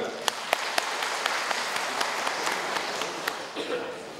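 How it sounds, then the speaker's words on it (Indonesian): Applause from an audience at an Indonesian community program launch, where neighborhood heads and PKK women are greeted in turn; steady clapping fills the clip with some sharper individual claps, and a voice talks over it. "silakan tepuk tangan"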